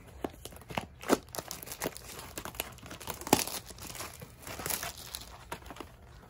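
Plastic packaging of a trading card blaster box crinkles and crackles in irregular bursts, with sharp snaps and rustling handled close up, no voices.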